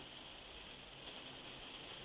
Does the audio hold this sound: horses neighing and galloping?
no